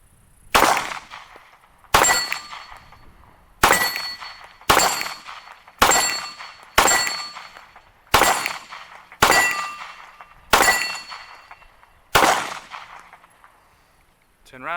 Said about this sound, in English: Let's fire a few rounds downrange. We have a steel target at 10 yards.